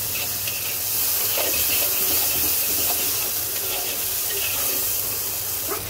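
Fried potatoes mixed into a hot, thin curry of ilish fish with potato and eggplant give a steady close hiss and sizzle with faint stirring scrapes, fairly loud and continuous without voices.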